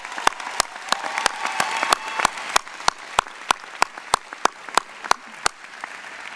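Commencement crowd at a business school graduation applauding, a busy clatter of hands that settles into a prominent, regular rhythmic clap, strong and evenly spaced.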